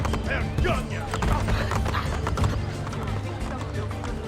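Horse hooves clatter at a gallop in Assassin's Creed Brotherhood, a steady fast clip-clop with busy game noise and a voice talking over it.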